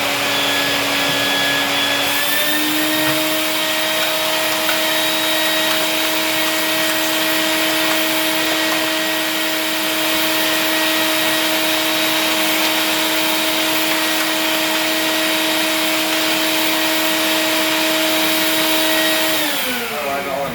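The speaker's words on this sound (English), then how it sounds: "I usually hit everything with a vacuum before I continue anyway." A vacuum cleaner runs steadily while cleaning up a Jura coffee machine brew unit workspace, a loud continuous motor whine with a slight pitch shift near the start and cutting off at the end.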